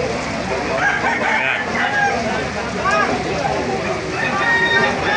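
Chickens and a rooster crowing amid heavy rain at an outdoor market in Bocaue, Bulacan, with steady rain noise, crowing calls rising through the middle, and people talking nearby.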